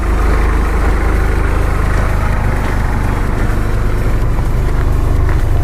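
A Mitsubishi Eclipse engine, warmed up, idles with a steady, low rumble continuously at a constant level, with no speech and no revving.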